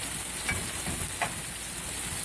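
Meat sizzles steadily in a hot pan just after pieces are flipped, a constant crackling hiss with a few brief louder pops and scrapes.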